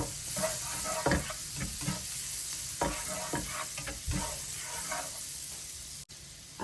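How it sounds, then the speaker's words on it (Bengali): Cubed garlic cloves frying in butter while being stirred, a soft, constant sizzle broken by repeated scraping strokes of a utensil in the pan. "2টা গার্লিক কেটে নিয়েছি কিউব করে। বাটারের সাথে একটু মিক্স করে অ্যারোমাটা বের করবো"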